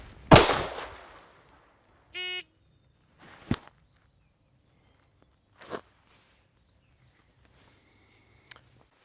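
Pistol shots fired at a target from 3 yards, ringing out as a sharp, loud crack, then a few separated fainter sounds and a short electronic beep tone.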